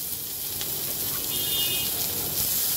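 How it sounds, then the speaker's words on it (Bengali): Whole black cumin seeds sizzle in hot oil left from frying khoilsha fish for a curry, a steady close hiss of frying heard alone without speech. "মাছ ভাজা তেলের মধ্যে আমি দিয়ে দেব গোটা কালো জিরা ফোড়ন"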